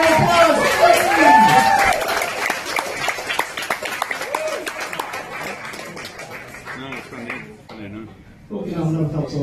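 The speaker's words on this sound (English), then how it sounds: "Mr. James Gamston, can you give a big round of applause for me?" A bar crowd at a live comedy night in Leeds claps and cheers for the next act, a loud burst of applause that gradually thins, with a voice speaking over it near the end.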